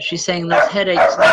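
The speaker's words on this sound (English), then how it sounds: "I apologize for the dogs, folks." Dogs bark indoors in the background while someone talks steadily over them; the barks are mixed in and partly masked by her voice.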